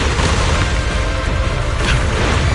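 Explosions in the action video game Zenless Zone Zero, a loud, dense, continuous rumbling roar of blasts and booms filling the whole stretch without clear breaks, with no voices.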